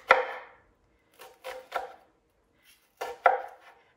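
Celery stalks chopped with a knife on a board, five crisp separate cuts in two short clusters with quiet pauses between, close and clear, no talking.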